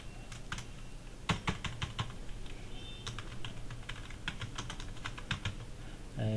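Someone types an article heading into an HTML editor on a computer keyboard, producing irregular bursts of close, crisp key clicks with short pauses between runs.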